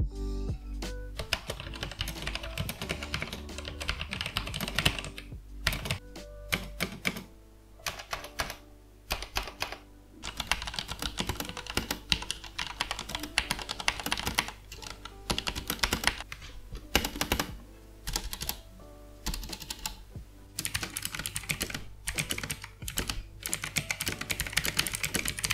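Rapid, continuous typing on a budget mechanical keyboard costing about Rs. 700, with crisp close-up key clacks in bursts and brief pauses between runs, heard alone.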